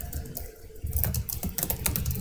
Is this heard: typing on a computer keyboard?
yes